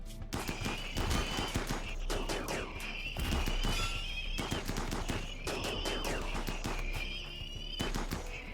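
Mini turrets fire repeatedly during a fight in the video game RimWorld, rapid bursts of gunfire layered with whirring and a shrill tonal whine, loud and dense across the whole stretch.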